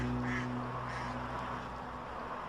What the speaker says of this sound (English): On a bridge with some ducks.